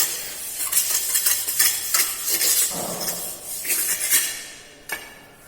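Sand surface in a foundry mold box being smoothed by hand, giving a continuous scraping, rustling texture with soft taps and a brief sharp knock near the end, fairly close and alone without talk.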